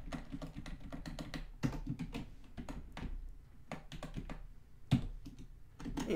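Fast, uneven typing on a computer keyboard, with clustered key taps and brief pauses, heard close and alone with no voices.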